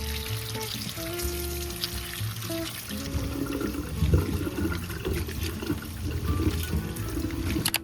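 Cherry tomatoes on the vine being rinsed under a running kitchen tap, a steady splashing water stream with shifting gurgles as the fruit moves under it, close and continuous without speech.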